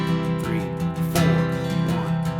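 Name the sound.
acoustic guitar strumming 16th notes with emphasis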